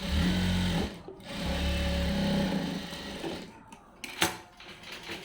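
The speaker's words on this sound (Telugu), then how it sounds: "ఇప్పుడు రెండో కుట్టు వేసేసుకోవాలి పక్కన" A sewing machine runs in steady bursts while stitching a blouse seam, its rapid mechanical whir stopping and restarting a few times, fairly close and loud, with a short click near the end.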